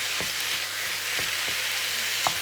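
Minced beef with onions sizzles and fries steadily in a hot pan for bolognese, a continuous close hiss broken by a few soft scraping stirs.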